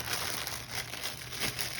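Amazon lace packaging crinkled and rustled as it is opened, a brief continuous plastic crackle heard up close at low volume with no talking.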